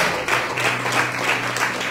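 A congregation at a Christmas service claps together in a steady, close, fairly loud rhythm, with a low hum underneath and no speech.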